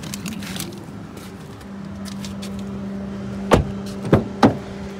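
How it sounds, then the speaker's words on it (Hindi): Steady whooshing blower hum fills a quiet Honda City hybrid interior, with a low drone underneath and a few sharp clicks near the end. "जब बहुत तेज़ फैन चल रहा हो ना, ऐसी आवाज़ आ रही होती है"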